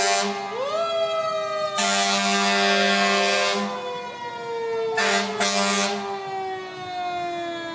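A Bowling Green Fire Department fire truck at a Veterans Day parade sounds its siren, which winds up and holds a long falling wail, while loud blasts of its air horn burst in twice.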